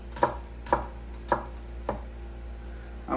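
A knife chopping fresh jalapeños into fourths on a cutting board for homemade salsa, four crisp, evenly spaced cuts followed by a fifth, close and clear over a low steady hum, with no talking.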